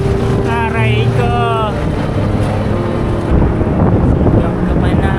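Strong headwind buffeting cyclists on a long road ride near the Cabanatuan bypass, a heavy continuous rushing roar over the microphone with low rumble, while a voice briefly sings or calls out early on.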